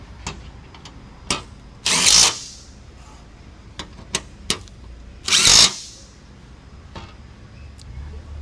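Power tool driving screws into the metal top bracket of a Polaris Ranger 1000 Northstar, two loud close bursts of motor whir separated by scattered clicks and knocks of parts being handled.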